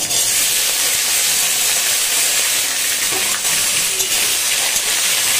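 Onions sizzle steadily in hot oil in a pan for a meat curry, a dense, continuous hiss that stays loud and close throughout, with faint clinks of stirring underneath.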